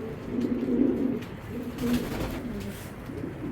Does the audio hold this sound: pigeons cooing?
yes